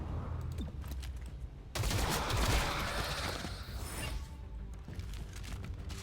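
Gunfire bursts from a pistol in XCOM: Chimera Squad, a rapid crackling volley of loud shots erupting midway over mechanical game ambience, then settling back to a quieter background.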